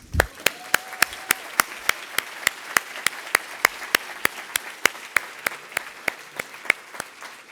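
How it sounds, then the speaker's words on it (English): Round of applause for a bus operator at a transportation keynote, heard as a sparse, evenly spaced series of sharp claps, closely miked and fairly loud, running steadily for several seconds. "All right, round of applause."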